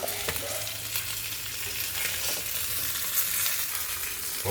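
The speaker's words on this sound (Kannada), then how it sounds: "ಆಮೇಲೆ ಫಿಶ್ಶಿಗೆ ಇನ್ನೊಂದು ಕೊಟ್ಟು ಮಸಾಲೆ ಹಾಕಿ ಎಣ್ಣೆಗೆ ಬಿಡಿ." Masala-coated fish fries in hot oil, Nati style, a loud, steady close sizzle with a bright crackling hiss that carries on without break and no voices.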